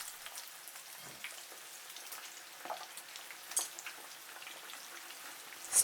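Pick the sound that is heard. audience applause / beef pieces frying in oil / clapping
beef pieces frying in oil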